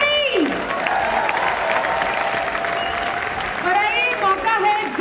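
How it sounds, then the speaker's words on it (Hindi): An audience at a wellness company's celebration event stands and applauds loudly. Dense, sustained clapping fills the room while an amplified voice speaks over it. "एक बार आइए फिर से खड़े होकर जोरदार ताली के साथ for our new royal diamond and energy Shiv कुमा"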